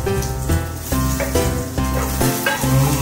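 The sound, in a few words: garlic and dry chili frying while being stirred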